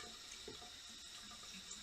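Hot water runs steadily from a tap while a chocolate fountain is being washed, a continuous hissing splash that is close but quiet, with no talking.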